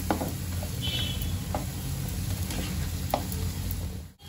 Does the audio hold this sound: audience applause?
no